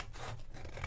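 Scissors snipping a strip of card off a fabric journal cover, a steady close scratchy cutting sound with soft rhythmic blade strokes.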